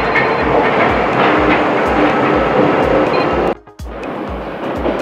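A Paris metro train pulls into a station, a loud close steady roar with rhythmic clacking of wheels over rail joints, briefly dropping before the rumble resumes.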